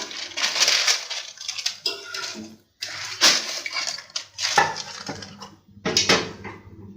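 Crispy layered lachha paratha, dhaba style, lifted from the pan onto a plate: dense crackling, scraping and clattering bursts in several bunches, fairly close and fairly loud, with short gaps between them.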